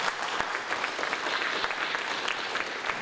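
A festival audience of Indian classical music applauds dilruba player Baljit Singh with dense, even clapping from many hands, sustained and fairly close throughout.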